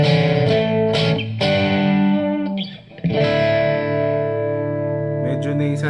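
An electric guitar runs through a Cuvave Cube Baby mid-gain preamp with reverb, playing sustained distorted chords and a few picked notes that ring out with a reverberant tail, loud and close, with no talking.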